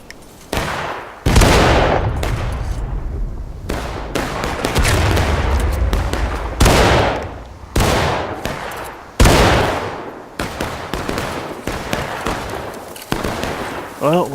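Rapid bursts of video game gunfire from a Railroad Cut battle map crack out in repeated volleys, loud and close, with short gaps between shots.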